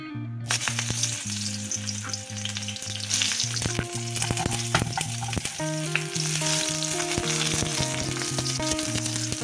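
Sliced onion sizzles in hot oil in a pan, a loud steady crackle that starts when the onion goes in and runs throughout, with occasional utensil clinks and a continuous tonal hum beneath.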